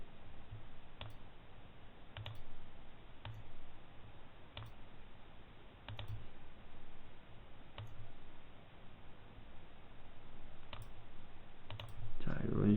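Computer mouse buttons click a dozen or so times at irregular intervals, faint and crisp, over a low steady hum during graphic-design software work, with a soft voice in the background.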